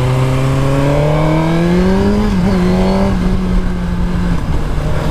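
A Suzuki GSX-R motorcycle heading downhill on the Jaufenpass, its engine humming loud and steady with a pitch that climbs, dips and holds over constant wind rush.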